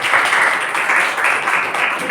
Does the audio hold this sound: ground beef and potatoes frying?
no